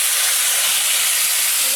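Water poured into a hot pan with mustard paste and fish for a shol fish curry gives off a steady, loud steam hiss and sizzle throughout, with no talking.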